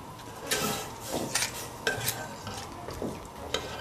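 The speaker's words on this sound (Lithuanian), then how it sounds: "Pieną reikia pastoviai maišyti, nes visi žinom, kas yra pienas." A spoon stirs milk in a pot on a kitchen stove, giving repeated soft scraping and clinking strokes against the pot. The sound is close and fairly quiet, with no voices.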